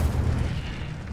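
The Incendio fire spell bursts out in Hogwarts Legacy as a deep, rumbling whoosh, loud and close, filling the whole brief moment without any talk.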